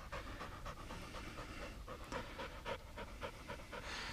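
A Vizsla-Labrador mix dog pants steadily and close by, with quick rhythmic breaths continuing for about four seconds and no voices.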